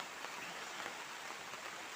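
Steady rain falls outdoors over a vegetable garden near a greenhouse, a continuous soft, even hiss with no voices.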